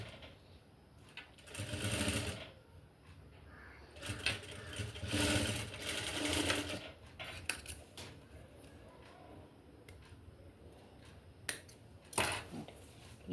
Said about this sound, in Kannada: ಇನ್ನೊಂದು ಸೈಡು ಕೂಡ ಹೊಲಿಗೆ ಹಾಕ್ಕೊಂಡ್ಬಿಡ್ತೀನಿ